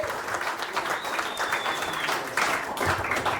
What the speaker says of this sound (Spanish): Quiero que por favor le demos un aplauso al señor Meco Saldaña desde Zona 57.